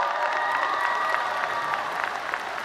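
Graduation audience at a high school ceremony breaks into sustained applause mixed with scattered cheers, a dense, steady wash of clapping from a large crowd throughout.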